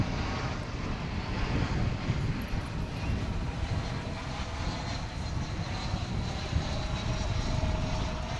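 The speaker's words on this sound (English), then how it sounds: "Let's get us an aircraft coming in, shall we?" An American Airlines jet from Ontario, California roars on approach to land at Dallas/Fort Worth Airport, a steady, fairly distant rumble of engine noise lasting throughout without speech.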